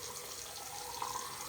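Water runs steadily from a tap into a container, making a constant close hiss and splash with a slight gurgle near the end. No one speaks.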